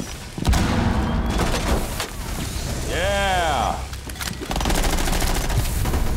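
Gunshots in Rainbow Six Siege, sharp bursts and thumps in the opening seconds and again near the end, loud and close, with voices shouting over the action.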